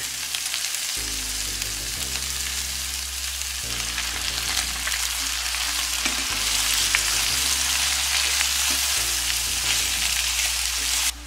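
Vegetables with thyme frying in oil in a pan, a loud close steady sizzle with stirring scrapes and a low hum beneath, continuous throughout with no talk.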